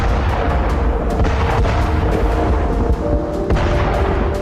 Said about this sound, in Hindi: जापान में यह धमाका सकुराजिमा ज्वालामुखी में हुआ।